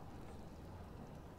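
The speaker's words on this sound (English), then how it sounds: "You guys can hear the spattering of raindrops outside your room in Greenest Keep." Steady rain spatters outside a room in a castle keep during a downpour, a soft, continuous hiss of drops that is faint and fairly distant, with no voices.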